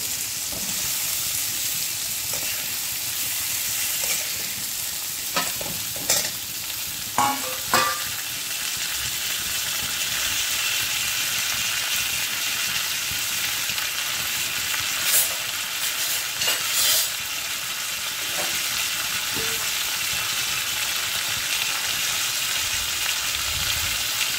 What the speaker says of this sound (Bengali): এই যে মাছের মাথাগুলো দিয়ে দিলাম।